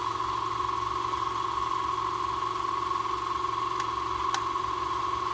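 A directionally wound motor coil spins at 1300 RPM, producing a steady, even whine with a constant pitch and a couple of faint ticks, quiet and close.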